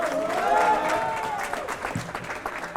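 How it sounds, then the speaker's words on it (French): Crowd applause at a live stage event, a steady wash of many hands clapping with cheering voices on top, loud at first and thinning slightly toward the end. "sous applaudissements de la foule en délire"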